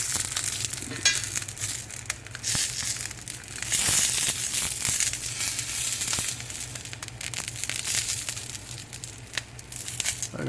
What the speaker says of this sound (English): kind of pan searing these peppers in the cast iron skillet